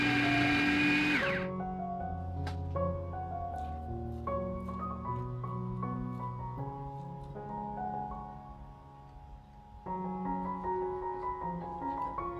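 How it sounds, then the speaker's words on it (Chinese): A food processor chops shallots with a loud whirring motor hum that holds steady and shifts in pitch. It dips briefly, then surges again. "还是用料理机好了"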